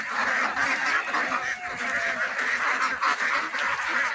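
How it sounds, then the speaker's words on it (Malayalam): A Vigova female duck quacks among other ducks, producing a dense, steady run of loud, overlapping honking calls throughout with no talking. "ഒരു വിഗോവ പെൺതാറാവാണ്."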